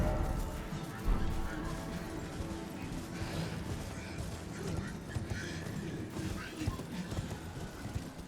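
Horse hooves clopping with a whinny in Elden Ring, a steady mix of game effects and background music running continuously throughout at moderate level.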